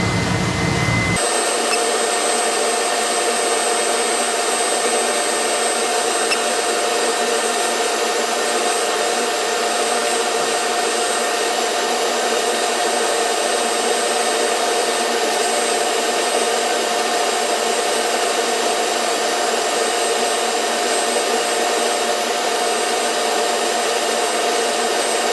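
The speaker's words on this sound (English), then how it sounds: "So we'll let it run this second time with the extractor on." Laser machine with a fume extractor running while etching iPhone back glass, a continuous steady whooshing hum with faint tonal whine, loud and unchanging after a brief start.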